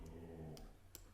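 A grumpy dog growls low and steady in the background for about half a second, faint and muffled in a quiet room, followed by a couple of soft clicks.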